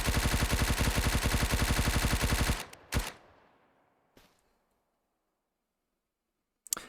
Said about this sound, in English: Let's go full auto, dump the rest of this mag.